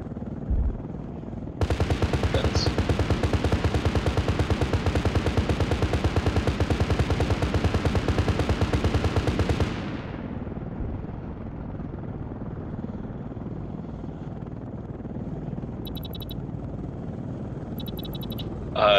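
Rapid automatic gunfire from an Apache attack helicopter in a video game roars as a long, fast, buzzing stream of shots for several seconds, then cuts off into a lower steady rotor drone with faint beeps late.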